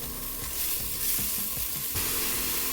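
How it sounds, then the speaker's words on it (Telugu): Black-eyed peas fry in a pan with a steady, close sizzle and crackle, joined by a few soft stirring scrapes throughout, with no voices. "ఇప్పుడు అలసందలు వేగిపోయాయి కదా"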